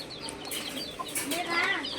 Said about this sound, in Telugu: చిన్న చిన్న రంగు కోడి పిల్లలు